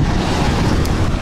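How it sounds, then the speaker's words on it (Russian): Strong headwind during a bicycle ride roars and buffets against the microphone in a continuous low rumble, loud and unbroken for a brief moment. "сильный ветер встречный"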